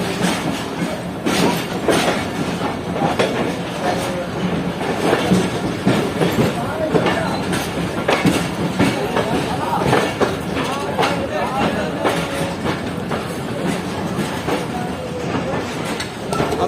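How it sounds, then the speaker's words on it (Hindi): The Rehman Baba Express passenger train runs on rails through dense fog, a steady rumble with rhythmic clickety-clack of wheels over joints, heard from inside the carriage as a voice talks over it. "जाफर एक्सप्रेस के पीछे पीछे हमारी ट्रेन जा रही है।"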